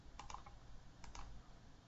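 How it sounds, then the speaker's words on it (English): Typing figures into a business dashboard on a computer keyboard: a few soft, quick key clicks in two small clusters, faint against a steady low hum, with no talking. "So at this point I can start typing in figures"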